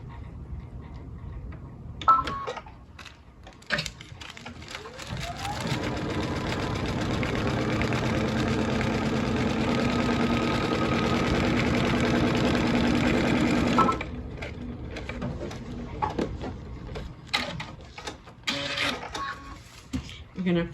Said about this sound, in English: And we're gonna sew that seam.